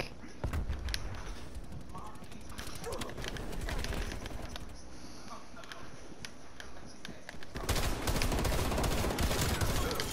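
Gunfire in Call of Duty Cold War gameplay, rapid bursts and shots rattling throughout at moderate level, with a heavier surge of firing near the end.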